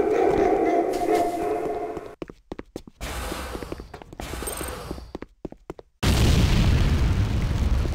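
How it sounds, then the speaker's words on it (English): A C4 charge detonates against the GDI Weapons Factory in Command & Conquer Renegade, giving a loud booming blast that breaks off into quieter rumbling stretches before a second dense, sustained roar of explosion. "C4 is set. Fire in the hole!"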